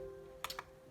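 A few quick keystrokes on a computer keyboard, three light clicks in close succession over a faint steady hum, with no voices.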